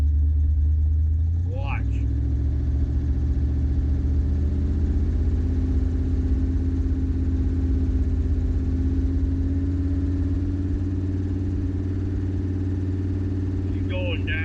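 A 1976 Ford Ranchero engine idling, then rising in a steady throttle rev that holds for several seconds, close and continuous, with someone talking briefly over it.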